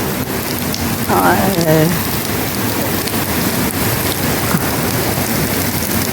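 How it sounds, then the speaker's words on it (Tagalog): Steady heavy rain falls in a dense, continuous hiss with constant spatter on surfaces, close and loud, with a brief spoken exclamation partway through. "Ayan, ulan galing sa baba."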